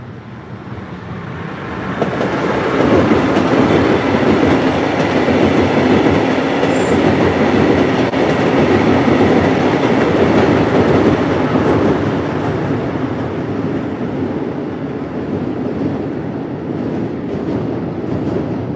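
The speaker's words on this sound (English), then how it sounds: "This is a Brightline train." A Brightline passenger train rolls past at Stuart, building from a distant rumble into a loud, sustained roar of wheels and rail noise close by, easing slightly toward the end, with no talk.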